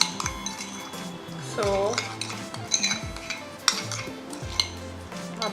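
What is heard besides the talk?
stirring blackhead remedy mixture in a bowl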